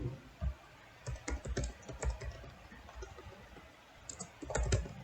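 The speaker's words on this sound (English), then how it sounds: "to run the application, we want to type node" Computer keyboard typing a command, a short uneven run of close key clicks with pauses, then a quick cluster of keystrokes at the end.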